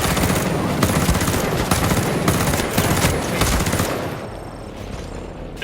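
Heavy gunner firing a machine gun in the video game Ghost Recon Breakpoint: loud, sustained rapid bursts for about four seconds, then the shooting drops to a lower rumble of fire.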